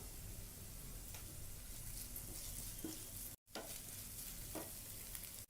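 Ginger garlic paste and salted onions fry in a pan for a cauliflower curry, with a continuous close sizzle and gentle stirring scrapes, briefly cut by a short gap of silence.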